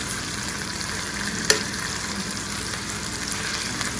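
A pork chop sears in a hot pan with a steady, close broadband sizzle that holds level throughout, broken once by a brief sharp pop or crackle near the middle.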